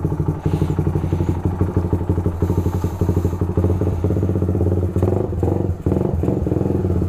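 A Honda Sonic 125 motorcycle engine putters and revs steadily up close, with a rhythmic low chug and occasional clattering bumps as it rides along.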